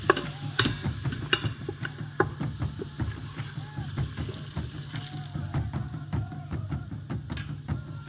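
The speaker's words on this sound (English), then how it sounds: "Just going to stir it around." Paprika and curry powder are stirred in a pot for a bean stew, making soft, irregular scraping and sizzling taps over a low, steady hum.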